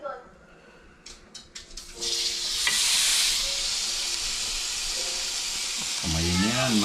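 Korean barbecue meat hits a hot grill after a few clicks, breaking into a loud, steady sizzle that continues close by, with a voice speaking briefly near the end.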